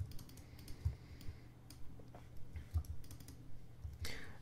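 Soft, sparse clicks from a computer keyboard and mouse during Photoshop editing, a few isolated taps and small clusters, quiet and close in a still room with no speech.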